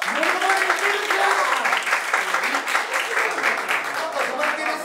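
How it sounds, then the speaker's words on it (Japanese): Applause from an audience at a comedy school showcase, close and steady clapping lasting about five seconds while voices talk over it. "皆さん 小林に大きな拍手を"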